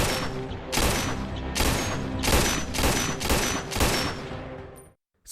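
Gunfire from a film during shooting practice, with repeated loud bursts of rapid shots close up, about six volleys separated by short gaps, alone before a sudden cut to silence near the end.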